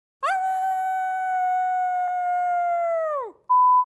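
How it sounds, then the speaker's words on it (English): A long, clear wolf howl used as an effect in a fantasy audiobook rises, holds steady for about three seconds and falls away, followed by a brief electronic tone. "In the next moment, with a wolf's cry"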